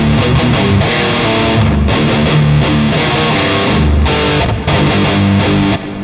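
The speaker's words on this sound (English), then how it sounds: "You're going to keep chugging the rhythm on that power chord." A heavily distorted electric guitar chugs a palm-muted power chord riff, loud and close, with rhythmic repeated low strikes and brief gaps.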